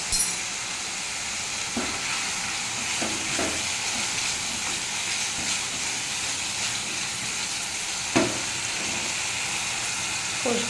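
Ginger and chili paste sautéing for pabda fish with mustard, a steady close sizzle and hiss from the pan with a few brief stirring scrapes, no voices.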